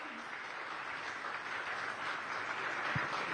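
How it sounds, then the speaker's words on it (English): Audience applause at the Times Now Summit, a faint, steady wash of clapping from a crowd in a hall, continuing without a break. "big round of applause?"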